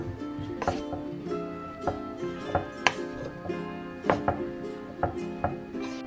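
Mashed potatoes with mozzarella cheese being stirred, close repeated knocks and scrapes of a utensil against the bowl in an uneven rhythm, moderately loud, with no talking.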